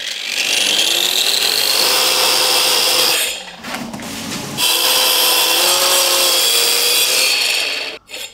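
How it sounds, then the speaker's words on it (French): A wall chaser grinds loudly and continuously as it cuts a cable groove for a roller shutter box renovation, pausing briefly midway before the harsh whine resumes and cuts off near the end. "Continue alors avec la rainureuse."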